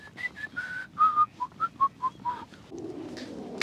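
A person whistles through pursed lips in place of a whistle during metal detecting, a run of about ten short, bright notes in a quick rising and falling pattern, close and clear, followed by soft background rustle.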